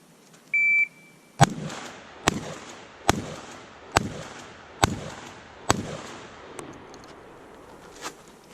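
Shot timer beep followed by six sharp, evenly spaced blasts from a short barrel shotgun at an outdoor range, each report loud and close with a brief decay, then a fainter seventh pop near the end.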